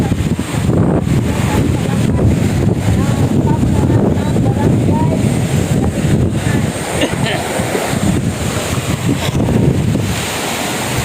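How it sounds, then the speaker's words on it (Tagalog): Strong wind roars steadily across the microphone, a continuous rushing gust with no break. "Ang sarap talaga ng hangin dito"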